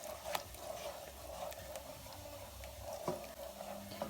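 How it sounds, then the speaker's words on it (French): Homemade play dough mixture being stirred in a pot off the heat, giving a steady wet scraping and squishing with a few sharper clicks of the utensil against the pot, fairly quiet and close. "je vais mélanger de façon à obtenir une pâte"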